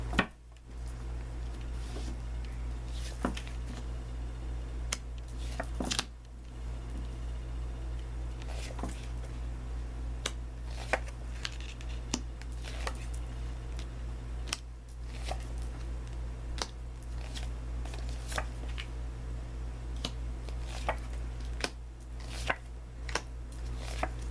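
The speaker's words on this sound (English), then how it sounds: "I do like to shuffle them a little bit on camera" Cards being shuffled repeatedly, soft riffling and tapping strokes in an irregular rhythm over a steady low hum.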